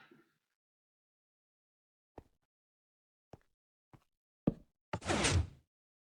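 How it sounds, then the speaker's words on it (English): A Minecraft piston door opens and closes, heard as a few sparse clicks and thuds followed by a louder whooshing mechanical push, close and clean with no talking. "Voila, the door opens and closes."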